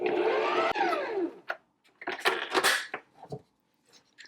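An electric mixer whirs at low speed through cranberry cake batter with Greek yogurt and vanilla, a close steady drone that cuts off, followed by scattered clinks and bumps of bowl and utensils.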